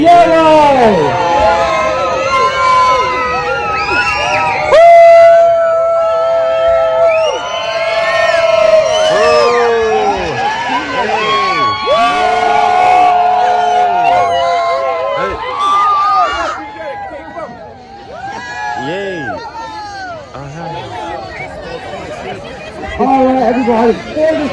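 A crowd at a pig race on a family farm cheering and whooping nonstop, many voices mixing into loud, lively cheering with a few high shrieks, close and full, with a steady din beneath.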